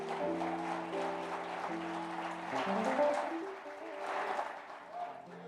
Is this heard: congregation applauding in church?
yes